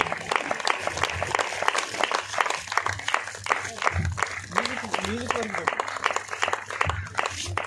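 Audience applause at a Christian audio album launch: dense, steady clapping from a crowd that fills the whole stretch, with a voice talking over it.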